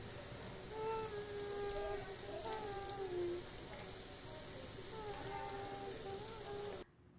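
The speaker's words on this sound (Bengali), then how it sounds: "আর ওইদিকে সবাই মিলে ভাজার কাজ করছে" Piyaji onion fritters fry in oil for a village iftar, a steady, fairly loud crackling hiss running almost the whole time with faint whistly tones above it, then cutting off abruptly just before the end.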